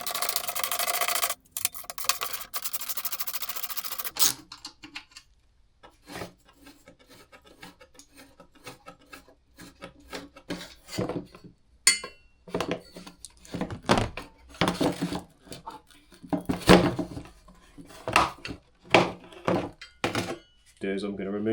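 Tools working on a 1999 Suzuki GSX-R 600 motorcycle as its last bolts come out, giving scraping, rasping turns and irregular clunks up close, loud at first and then a sparser run of clicks and knocks.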